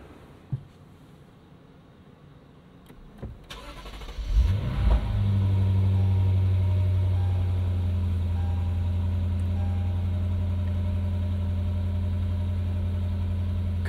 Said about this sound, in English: 6:55 a.m. cold start.